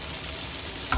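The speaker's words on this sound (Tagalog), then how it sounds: "Stir-fry mo siya dyan until mag-golden brown yung onion at saka yung garlic." Onion and garlic stir-frying in a pan until golden brown, a steady dense sizzle close up with a brief scrape of stirring at the end.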